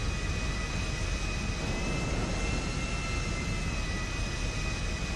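In GTA 5, an airplane's jet engine whines and roars steadily after landing at an airfield, a constant loud hiss with a faint high tone running beneath.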